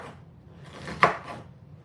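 A knife chops onions for meatballs and mashed potatoes, with one sharp, close cut standing out against quiet kitchen background and no talking.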